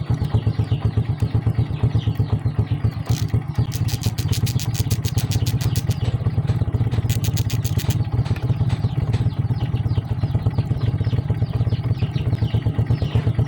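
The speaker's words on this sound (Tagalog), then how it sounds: "hindi nag-shut off yung engine natin" A motorcycle engine keeps idling steadily with a fast, even clatter after its half-wave rectifier regulator is removed during a test, running close and loud throughout with no talk.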